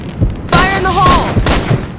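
Grenade blast in the CrossFire shooter game, a loud boom with rumbling gunfire bursts around it, under a shouted in-game voice line.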